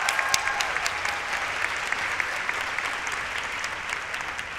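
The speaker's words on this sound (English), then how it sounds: "Please, another round of applause for Mr." A continuous round of audience applause at a dual enrollment recognition ceremony, even and sustained with a few sharper individual claps standing out, moderately distant and without talk.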